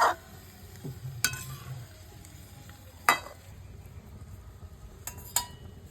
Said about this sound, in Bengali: ঢাকনা তুলে হালকা নেড়ে দেবো উলট পালট করে, যাতে এটা ভালো করে সেদ্ধ হয়ে যায়